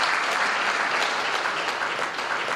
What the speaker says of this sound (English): A round of applause for our esteemed guests.